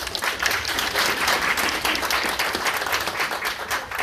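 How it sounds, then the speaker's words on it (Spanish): An audience at a talk analysing maritime lawsuit arguments applauds a panel speaker, many hands clapping in a brisk, even patter, close and fairly loud, with no one talking over it. "Un aplauso para él, por favor"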